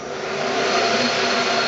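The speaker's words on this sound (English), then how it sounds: "I can now jog at whatever motor frequency I have set on the rheostat" Lathe motor jogging under VFD control, a brief steady whirring hum like a vacuum, close and continuous for under two seconds.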